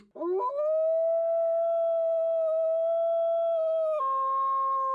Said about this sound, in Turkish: Bak uluma dediğin şöyle olur.